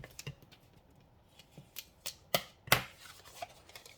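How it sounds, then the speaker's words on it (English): Crisp paper handling while card stock is creased and folded for a fancy fold card, heard as scattered rustles and a few sharp snapping creases, close up with no talking. "Now we're gonna fold this up, and this one down."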